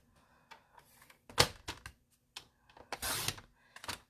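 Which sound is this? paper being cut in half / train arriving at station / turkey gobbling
paper being cut in half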